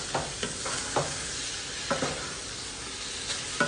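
Onion, hot chili, sweet peppers and garlic sauté together in a pan, giving a steady close sizzle broken by a few sharp stirring scrapes.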